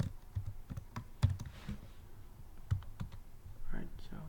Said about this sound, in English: So we just type in me.close.